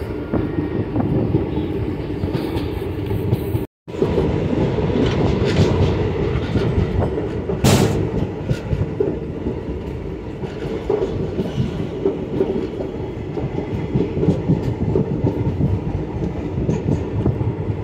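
A train runs on rails near Almatti railway station by the dam, a loud, steady rumble with rhythmic clickety-clack of the wheels throughout and a brief dropout, heard close with no speech.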